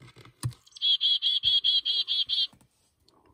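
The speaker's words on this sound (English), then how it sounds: "One of my favorites is the black-capped chickadee." A black-capped chickadee gives a short burst of high, rapid, buzzy repeated notes, clear and close, with a few soft clicks before and after.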